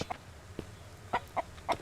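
A chicken clucks in the survival video game Mist Survival, a few short, soft clucks spaced irregularly over quiet game ambience.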